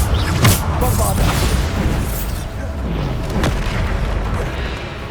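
Bombarda spell explosions in the video game Hogwarts Legacy, heavy booming blasts in quick succession with deep low rumble and sharp bursts, loud and dense throughout.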